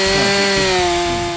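A chainsaw cuts through a stack of logs held in a sawhorse frame, its loud, steady motor whine running close and continuous with no one speaking.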